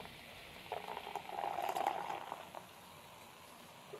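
Colima Cayaco beer being poured into a glass, a soft liquid fizz and splash that swells for under two seconds in the middle and then fades back to a quiet room.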